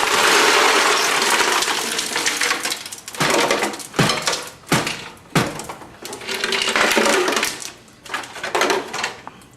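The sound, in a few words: adding ice cubes to brine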